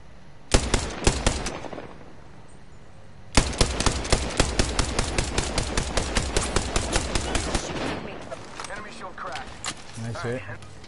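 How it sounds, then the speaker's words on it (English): Rapid video game gunfire: a short burst of automatic shots, a pause, then a long sustained string of loud, evenly spaced shots that tapers into scattered fainter ones, with a voice speaking over the action. "Getting shot at."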